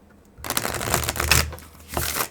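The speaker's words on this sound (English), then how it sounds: "We'll shuffle a couple of times and see" Tarot cards are shuffled by hand in a few close, brisk riffling bursts, with crisp papery flutters and a short pause between passes.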